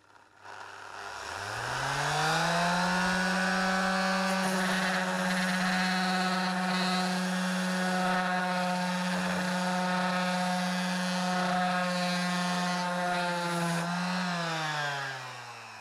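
A Bosch sander fitted with a new 80-grit disc spins up to a steady, loud motor whine with a strong harmonic buzz, runs evenly for about twelve seconds, then winds down.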